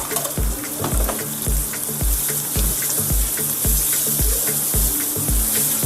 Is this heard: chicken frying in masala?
yes